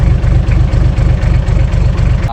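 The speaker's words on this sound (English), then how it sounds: "the car is running on 5 cylinders at the moment" A car engine idles roughly while misfiring on five cylinders, with a fuel leak in the engine bay, giving a loud, close, uneven low rumble with a steady stumbling pulse and no pause.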